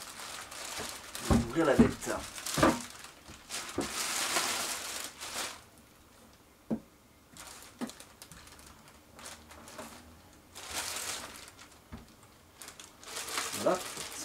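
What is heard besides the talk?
plastic wrapping crinkling as the Powergrip YG-3 is unwrapped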